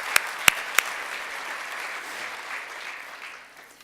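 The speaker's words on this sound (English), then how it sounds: "So let's give them a round of applause" Applause for coaches and athletics staff at a university varsity athletics awards celebration: a steady wash of many hands clapping in a hall, with a few sharper claps standing out at the start, moderately loud and sustained throughout.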